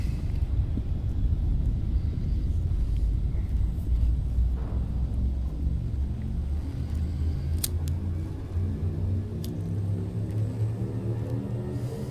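An Elite: Dangerous spaceship's frame shift drive charges up after fuel scooping near a neutron star, a steady deep engine rumble joined by a rising, layered whine that climbs toward the end.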